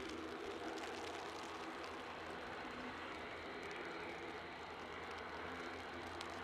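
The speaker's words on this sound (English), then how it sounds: "there's an ATR strumming away in the background" Aer Lingus ATR turboprop droning far off at an airport, a faint, steady engine hum spread across the whole stretch, with no talking.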